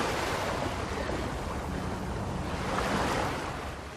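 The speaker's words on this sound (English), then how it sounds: "You can hear the water." Harbour water with waves washing in, a continuous broad rushing surge mixed with wind noise on the microphone, steady and fairly loud with a slight swell near the end.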